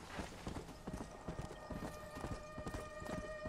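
Quiet, rapid clip-clop of horse hooves at a steady gallop in the video game Red Dead Redemption: Undead Nightmare, with faint tonal hum in the background.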